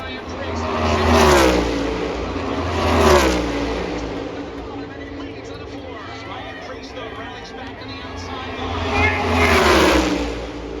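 Stock cars race side by side at a Talladega Cup race, engines roaring past in loud repeated sweeps that swell and fade as the pack passes, with crowd chatter underneath.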